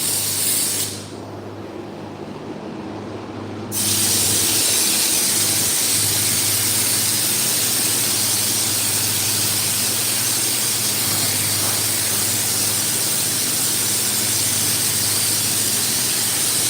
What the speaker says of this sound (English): And I'm spraying at about 75 PSI, right?